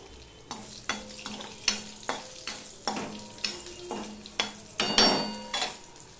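Dry red chilli and panch phoron dropped into hot oil for tempering, sizzling close up with a steady hiss broken by a dozen or so sharp stirring and spoon clinks against the pan, no voices.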